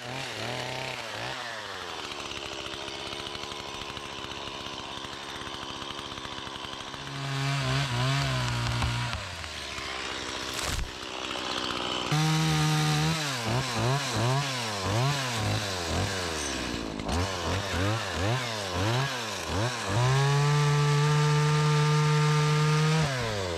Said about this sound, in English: I'm sawing the trees down